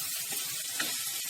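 Onions fry in a pan over low heat as the base for a fenugreek and spinach dish, giving a close, continuous hiss and sizzle with no talking over it.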